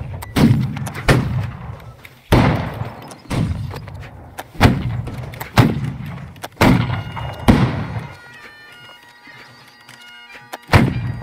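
Musket volleys at an 1815-era reenactment of the 44th Foot light company, outdoors: about eight sharp, loud black-powder shots in ragged volleys, each booming out and echoing across the field, spaced a second or so apart with brief gaps between.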